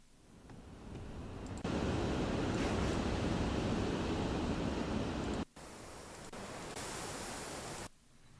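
Two layered wind sound effects being mixed together, forming a dense, steady hiss and roar like broadband noise that cuts in, drops out briefly, then resumes at a slightly lower level before stopping.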